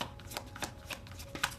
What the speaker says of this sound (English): It'll take me a minute to shuffle, but while I'm shuffling, let's just talk about some astrology.